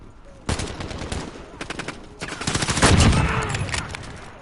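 Rapid marksman rifle fire in a PS4 shooter, loud repeated cracking shots in quick bursts, then a denser volley of gunfire and explosions.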